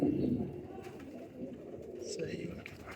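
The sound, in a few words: pigeons cooing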